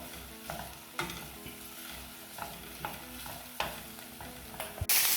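Onions soften over gentle heat in a pan, giving a low steady sizzle broken by repeated scraping stirs and soft knocks of a spoon, with no talking.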